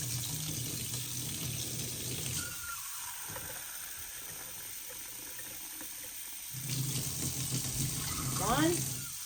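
Warm water runs from a kitchen tap into a container, a steady hissing stream that drops out briefly in the middle and returns louder, with a few knocks near the end.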